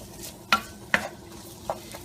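Finely diced onions and garlic frying in oil, with a soft sizzle under a few sharp spoon or pan clinks, close and fairly quiet.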